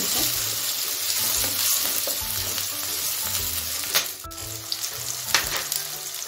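Peas and ginger-garlic paste sizzling in a hot pan of oil while cooking veg fried rice, a loud steady frying hiss with a few stirring clatters near the end.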